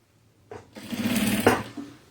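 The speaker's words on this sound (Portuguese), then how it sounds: "Tem que fazer o retrocesso aqui" A domestic sewing machine runs a short backstitch on a fabric storage basket: a brief whir at the start, then about a second of steady close-up motor hum, ending with a small click.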